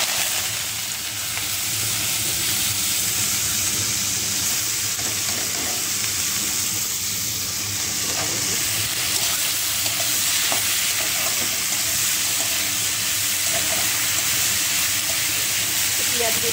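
Bitter gourd sizzles steadily in hot oil in a wok, a continuous close frying hiss with occasional stirring scrapes and faint background sounds.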